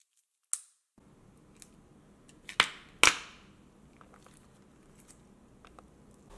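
Slime containers being popped open, a few sharp close pops and snaps, two louder cracks in the middle, with small crinkly handling clicks in between.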